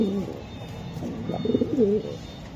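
Racing pigeons in a loft cooing in low, rolling bursts, a few phrases close together and moderately near, with a faint high whine in the background.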